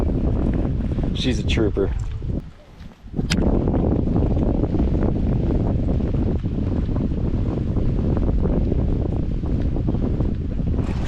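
Steady wind buffets a microphone on a kayak out on open water, a continuous loud rushing roar with a brief lull, while a voice speaks briefly over it.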